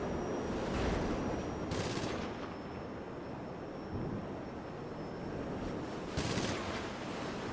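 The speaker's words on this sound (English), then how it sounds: "the NPC driving this vehicle is equipped with a regular machine gun. As you may have noticed, that they're only able to shoot in controlled bursts" Machine gun on an NPC-driven Vigilante vehicle in a video game, firing short controlled bursts: several broadband rattling volleys over a steady droning aircraft-like engine hum, fairly loud and close, with no talk.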